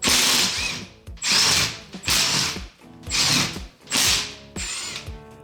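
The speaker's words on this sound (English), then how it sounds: "Using an impact gun, I loosened the lock nut on the sector shaft adjusting screw" An impact gun hammers at the lock nut on the sector shaft adjusting screw of a 1963 Thunderbird steering gear, five loud, close bursts of rattling impacts separated by brief pauses.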